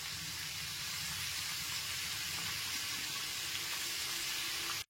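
Mixed winter vegetables such as pumpkin, flat beans and eggplant fry in a pan over a medium gas flame, giving a steady, even sizzle and hiss that runs unbroken at close range with no talking.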